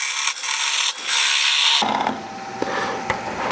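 A bowl gouge bites into wood spinning on a lathe, a loud, bright scraping cut for nearly two seconds, then a quieter, lighter rasping as the tool slows through the rest of the cut.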